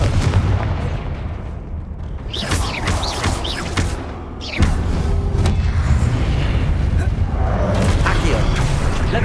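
Confringo blasting spell in the Hogwarts Legacy video game, a dense run of loud booming bursts and crackling impacts layered over game noise, with a voice talking through it.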